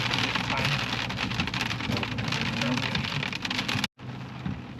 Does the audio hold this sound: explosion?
no